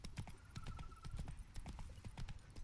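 Horse hooves clip-clop in a steady galloping rhythm while riding through The Witcher 3: Blood and Wine, dense and continuous, moderately loud and close, with no talking over them.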